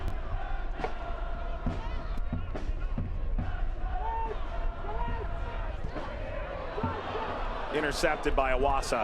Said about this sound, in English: You could hear the groan of the crowd